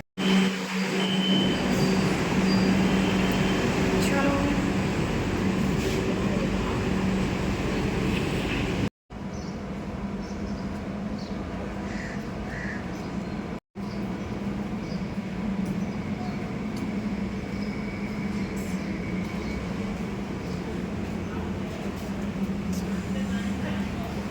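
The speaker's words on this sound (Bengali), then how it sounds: "চলো এখন মেট্রো ওঠা যাক" Metro train ride heard from inside the carriage, a steady low rumble and hum of the moving train running throughout, with brief cuts and faint sounds of passengers.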